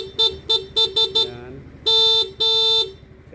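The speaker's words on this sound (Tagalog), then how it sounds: "Stock na busina, walang rapid po yan" A stock car horn sounds five short beeps in a quick series, followed by two longer sustained blasts, loud and close.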